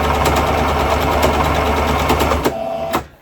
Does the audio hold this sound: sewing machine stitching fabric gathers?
yes